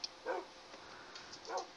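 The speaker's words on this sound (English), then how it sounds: "I see Bacon's added more guard dogs" Guard dogs barking in the video game Minecraft: two short bark bursts, one near the start and one near the end, fairly faint over a quiet background with no talking.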